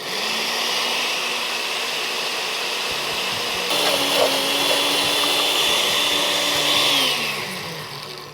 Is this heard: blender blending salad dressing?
yes